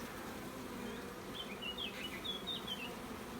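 Honeybees on hive frames hum in a faint, steady drone, with a few thin high chirps rising above it midway through.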